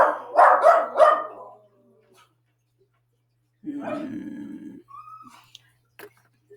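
Dogs bark in a quick burst of three loud, close barks, then after a pause a longer, lower growling bark and a brief whine-like tone follow in a quiet room.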